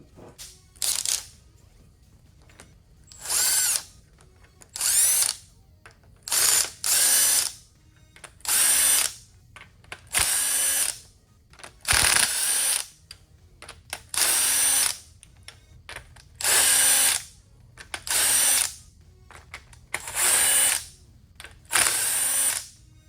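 Repeated bursts of a pneumatic impact wrench loosening bolts while disassembling a Ford F100 engine, about a dozen short loud rattling runs separated by brief pauses, close by with no talking.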